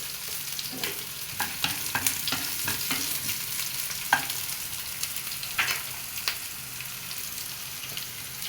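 Plantain, tomato and raw prawn curry being sautéed in a pan, with a steady low sizzle and frying hiss under repeated scraping stirs of a spoon, close and fairly quiet, no talking.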